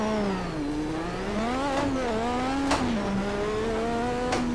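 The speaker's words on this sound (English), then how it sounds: "we also have the turbocharged V6 engine" A turbocharged V6 Formula 1 car engine revs and shifts through gears around the Goodwood track, pitch climbing and dropping repeatedly, loud and close with a sharp crack between shifts.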